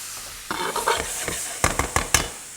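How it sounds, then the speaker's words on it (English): Spinach being reheated in a frying pan while cooking fettuccine with chicken, giving soft sizzling with a handful of sharp stirring and scraping clicks, close and fairly quiet, with no talking. "virtually all we're doing in the frying pan is just allowing to heat that spinach up again"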